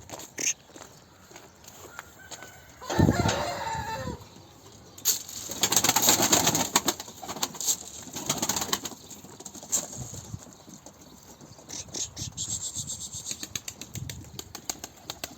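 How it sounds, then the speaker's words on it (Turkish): Young tumbler pigeons being handled and put inside a loft, with soft cooing and bursts of flapping wings at close range, punctuated by shuffling and handling noises; no one speaks. "Şöyle şu kuşlarımızı içeri koyalım."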